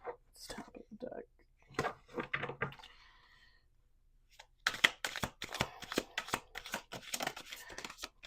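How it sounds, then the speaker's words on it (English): A deck of cards being shuffled by hand at a table, quiet rapid riffling bursts in two clusters separated by a short pause, close and soft. "We're going to do 2 more shuffles."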